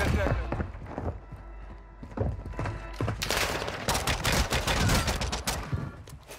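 Video game gunfight with akimbo pistols: rapid volleys of shots crackle in dense clusters, loud and close, while a voice talks over the action.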